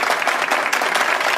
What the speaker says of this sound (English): More applause for her.